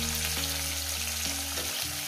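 Pieces of fish fry in oil in a pan for a spicy fish curry with vegetables, giving a steady, close sizzle with a faint tonal hum underneath.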